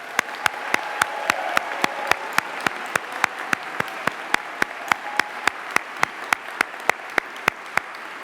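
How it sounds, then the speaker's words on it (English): A graduation ceremony crowd claps in a continuous wash for the graduates, with a bright, evenly spaced tick repeating through the whole stretch at steady volume. "let's get a big cheer for you all"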